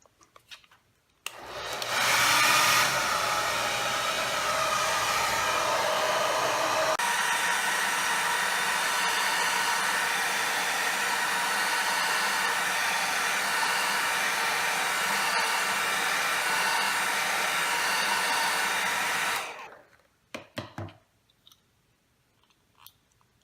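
A hot air frame warmer blows a steady, loud whoosh for about eighteen seconds while heating an eyeglass frame temple, then cuts off, followed by a few soft handling clicks.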